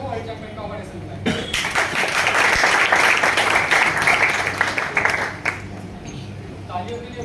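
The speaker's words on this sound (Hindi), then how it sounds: "तालियों के लिए रुक जाइए" An audience at a talk at VJTI engineering college in Matunga, Mumbai, bursts into loud, sustained clapping lasting several seconds before fading, with a speaker's voice before and after.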